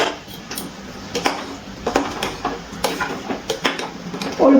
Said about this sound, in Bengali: ঢাকনাটা তুলে নিচ্ছি